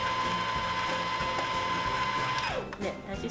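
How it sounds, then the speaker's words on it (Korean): Sewing machine in bobbin-winding mode, giving a steady whirring hum close by. Near the end the motor winds down with a falling pitch, followed by a few mechanical clicks. "그 상태에서 스타트 버튼을 살짝 눌러주시면 밑실이 부드럽게 감기게 됩니다."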